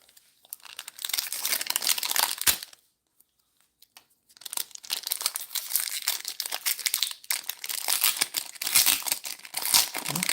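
Foil booster pack wrapper for Magic: The Gathering cards being torn and crinkled open by hand, loud close crackling in long bursts with a short pause between, no talking.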